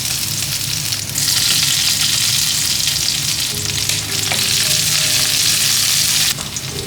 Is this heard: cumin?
yes